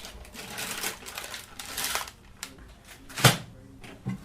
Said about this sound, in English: So I'll just make a little cut across the top.